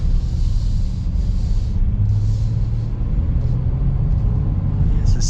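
Steady low road rumble from inside a 2026 Honda Ridgeline Black Edition pickup with a 9-speed transmission, driving smoothly. A broad hum holds at a constant level for the whole stretch, with no voices.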